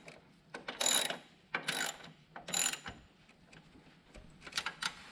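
A ratchet socket wrench tightens the brake caliper bolts on a Honda 400ex ATV, giving several close, quick bursts of clicking ratcheting strokes separated by short pauses.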